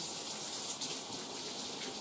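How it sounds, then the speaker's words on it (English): Tap water gushes steadily in a sink as hands are washed between handling egg and flour, a continuous close splashing rush, fairly quiet, with no talk. "So why not go wash my hands again?"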